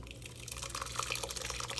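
Liquid strains through a strainer into a container, a steady trickle with scattered close drips and gurgles over a low hum.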